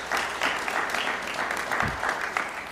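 Steady applause from an audience at a City of Little Rock press conference, dense clapping that holds at an even level for nearly three seconds without speech.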